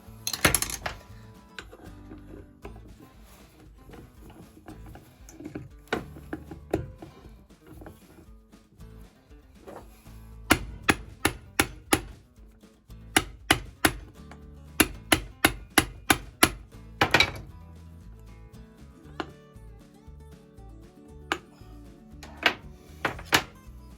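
Metal screwdriver struck repeatedly with a hammer to free a stuck screw on a seat during repair and restoration; sharp clanking impacts, scattered early then in quick clusters, close and loud over quiet workshop background.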